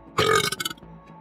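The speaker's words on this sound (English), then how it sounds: "A giant belch marks victory." Loud single belch from a Commodore 64 game, Blood 'n Guts (1986), marking victory in a drinking contest, with a harsh burst that breaks into a few choppy pulses before fading.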